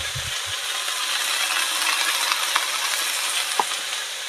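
Onion, chilli and cumin fry in hot oil with potatoes in a pan for a fish curry, giving a steady loud sizzle throughout, with a couple of brief stirring clinks and a few low knocks at the start.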